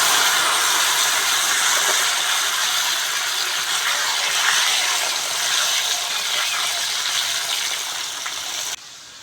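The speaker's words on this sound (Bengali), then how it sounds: "কচুটাও মাছ ভাজার তেলে ভেজে নেব।" Pieces of taro and potato fry in oil left over from frying fish, a dense, continuous sizzling hiss close by that holds steady and then drops off sharply at the end.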